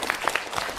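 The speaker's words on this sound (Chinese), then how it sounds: "我们用掌声感谢我们的这位同学哈" A few audience members clap at a Chinese lecture or talk event, a short sparse burst of individual claps at moderate loudness.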